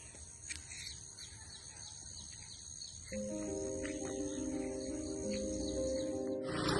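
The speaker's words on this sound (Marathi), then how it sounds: "एकीकडे पक्ष्यांचा आवाज येतो आहे." Birds call and twitter in the open air on a morning walk, over a constant buzz of crickets and insects, with a sustained tonal hum joining halfway through.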